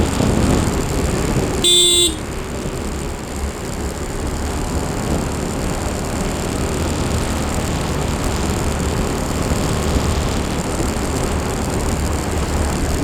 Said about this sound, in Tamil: இந்த ரோட்டில் இவ்வளோ டிராஃபிக் ஆகி போச்சு.